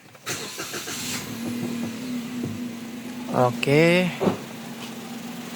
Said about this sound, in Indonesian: saat mobil nyala starter, coba kita nyalakan.